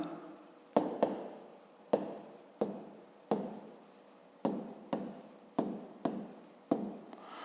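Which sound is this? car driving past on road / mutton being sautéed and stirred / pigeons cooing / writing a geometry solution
writing a geometry solution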